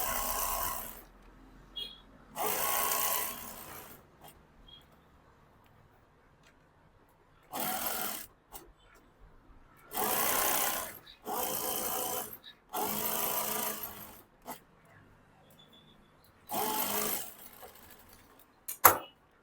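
A sewing machine stitching a lining piece onto a shirt collar runs in short loud bursts of rapid whirring, separated by quiet pauses with faint handling noises, close by.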